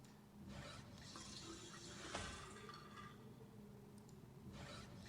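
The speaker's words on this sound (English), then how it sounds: "You see how fast the water falls?" Water pouring into a sink in Riven, heard as a steady, fairly quiet rushing splash that runs throughout, with a brief bright clink in the middle and no talk over it.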